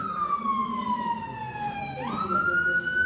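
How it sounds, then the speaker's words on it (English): A police siren wails loudly nearby, its tone sliding down and then sweeping back up. "without police sirens"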